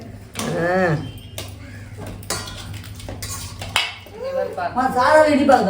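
A spoon stirs sugar into juice in a glass at a family meal, giving sharp metallic clinks and scrapes in uneven bursts while voices talk nearby.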